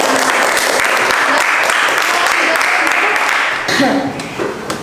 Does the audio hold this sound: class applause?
yes